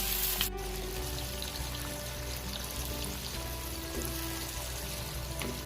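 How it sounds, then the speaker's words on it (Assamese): Lemon pieces dropped into hot oil with panch phoron for a pickle, a sharp burst of sizzle at the start settling into a steady close frying crackle. "কাটি থোৱা নেমুখিনি আমি গৰম তেলত দি দিব লাগিব"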